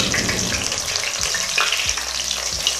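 Bitter gourd shallow-frying in a pan over medium-low heat gives a steady, close, dense sizzle, with a few soft stirring scrapes breaking through now and then.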